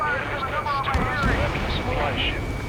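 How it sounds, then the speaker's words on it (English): A deep explosion rumbles within a continuous roar of aircraft and gunfire in Ace Combat 7, blended into a dense, loud battle soundscape with a faint voice underneath. "An explosion inside."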